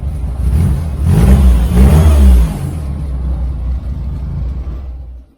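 Austin A-series engine fitted with a sports pancake air filter in a Mini-based Turner Ranger, revving from idle in neutral, loud and close, swelling to a peak then settling into a steady rumbling run.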